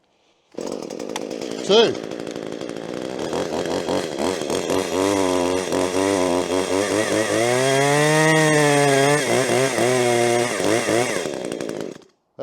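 A Mitox petrol chainsaw firing up and running, a harsh buzzing two-stroke engine that revs and settles close by, pitch swelling and dipping for around eleven seconds before stopping, with a brief spoken word near the start.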